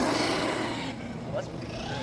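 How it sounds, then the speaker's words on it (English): A Traxxas Rustler RC car drifts around outdoors in the rain, its motor making a faint, steady whirring hiss under muffled background voices. "So now we're just gonna drift the rustler around."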